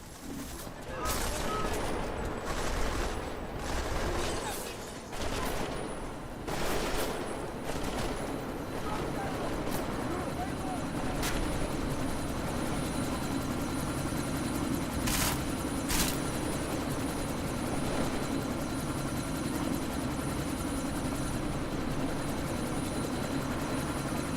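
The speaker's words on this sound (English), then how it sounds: "That chopper's about to take off." In the Deus Ex: Mankind Divided video game, a helicopter roars steadily as it readies for takeoff. Bursts of gunfire and several sharp shots cut through the engine drone, with voices speaking over the action.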